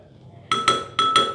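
Metal spoons clink against one another while ingredients are measured out for a homemade Vaseline stretch-mark remedy: four quick, bright chinks in two close pairs, near and clear after a brief quiet start.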